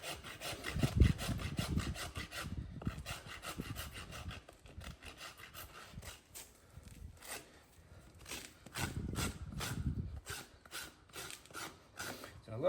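A farrier rasps a young horse's hoof in repeated rough strokes, bursts of scraping rasp separated by short pauses, close and fairly quiet, with occasional faint talk.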